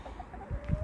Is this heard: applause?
no